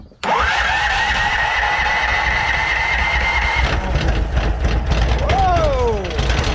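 A previously seized lawn mower engine fires on the first pull without choke, then runs loud and steady with a shift in pitch partway through, while a man exclaims over the noise.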